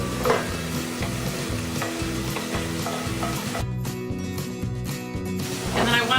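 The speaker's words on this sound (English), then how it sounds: "Okay, I'm going to put my onions in." Onions sizzle steadily in a hot pan for chili, a dense continuous frying hiss with rhythmic scraping of a spoon stirring them through, close and loud with no talking.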